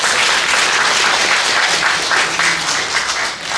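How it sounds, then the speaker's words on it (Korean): A church congregation at a Sunday anniversary service claps steadily for a few seconds, a dense, even patter of applause with no voices over it. "우리 다시 한번 박수 쳐주십시오."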